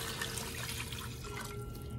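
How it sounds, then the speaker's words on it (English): Water poured into a pan of browned chili meat for a copycat Der Wienerschnitzel chili dog, a steady soft splashing trickle at moderate level without talk. "So I'm gonna go ahead and just add my water to the pan."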